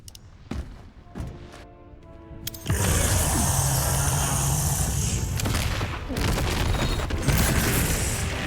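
Stacked grenades detonate in Resident Evil 9 Requiem, several muffled booms rising into a sustained, dense roar of blasts and gunfire that carries on loudly through the rest of the moment.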